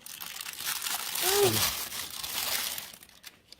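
A black plastic bag inside the cardboard box of a home mushroom-growing kit is opened and crinkled, giving a close rustling burst that swells and fades over a few seconds.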